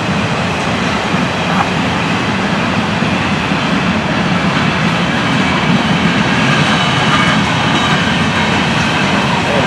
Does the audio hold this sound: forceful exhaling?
no